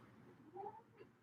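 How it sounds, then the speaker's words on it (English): A house cat lets out a single short meow, faint and close, over a quiet room background with no talk. "This cat's crazy."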